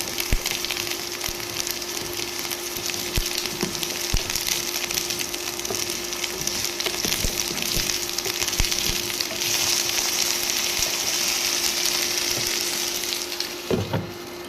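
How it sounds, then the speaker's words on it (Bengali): Potatoes frying in a pan, browning to a reddish color, give a steady moderate sizzle with occasional soft clicks and stirring scrapes, with no talk over it. "খুব সুন্দর করে লাল লাল করে ভেজে নেব"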